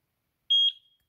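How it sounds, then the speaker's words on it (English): A single short electronic beep from a Eufy SoloCam S340 camera, high-pitched and clean, sounding once and then fading quickly into silence. "there's a beep, and as you can see, it's flashing."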